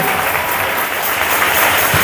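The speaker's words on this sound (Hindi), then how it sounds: "जो ताली बजा के प्रभु के नाम को महिमा करें" Steady, dense clapping from a church congregation praising the Lord, a continuous wash of many hands held at an even level throughout with no voices rising above it.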